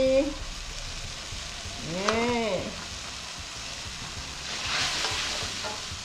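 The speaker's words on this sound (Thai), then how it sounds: "เคี่ยวนะคะ เติมเกลือด้วยนะคะ" Thai sweet fish sauce simmers in a pan with salt and fish sauce added, giving a soft steady bubbling sizzle with scraping stir sounds, a brief bird-like chirp in the middle, and faint background voices.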